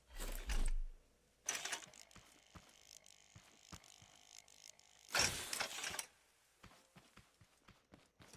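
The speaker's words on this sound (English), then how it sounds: "So let's weld it to the wall." Welding tool in the game Scrap Mechanic fixing a piece to a wall: three loud bursts of hissing, mechanical noise, the middle one longest, separated by quieter clicks and soft tapping.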